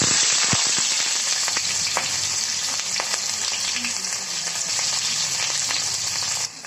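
Onions frying in a pan with bay leaves and a little sugar while cooking a meat dish, a loud continuous close sizzle with scattered pops and crackles.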